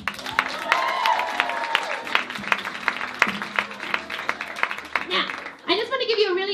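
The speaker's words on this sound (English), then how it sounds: "Give yourselves a big round of applause." A club audience claps in scattered, sharp bursts with cheers and voices mixed in, and a loud voice rises near the end.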